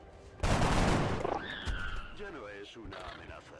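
A single loud gunshot burst from a shot taken in the turn-based strategy game XCOM: Enemy Within, in Ironman mode, followed by game sounds and a short voice exchange.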